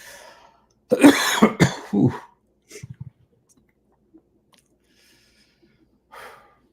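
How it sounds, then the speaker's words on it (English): A close cough fit of several harsh bursts, followed by a few softer throaty sounds and a faint breath, with quiet gaps between. "when things shift, I cough and yawn"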